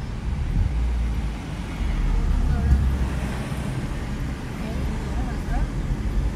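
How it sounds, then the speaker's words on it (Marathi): A vehicle travels the Gaganbawda ghat road in the Western Ghats, producing a low, steady engine and tyre rumble that swells slightly midway, with a voice murmuring faintly underneath. "गाडी येते."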